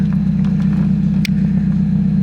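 A Mazda Miata car idles with a steady, loud low engine rumble, heard close up, and a brief sharp click comes partway through.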